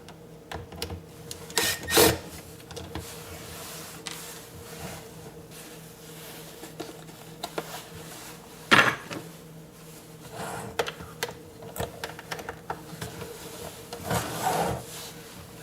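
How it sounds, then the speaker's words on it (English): Small black screws being taken out of the back of a plastic dash piece from a Toyota Highlander climate control, heard as close, intermittent scraping and rubbing with a few louder knocks and handling noises. "you've got to remove these small little screws from the back of this plastic piece"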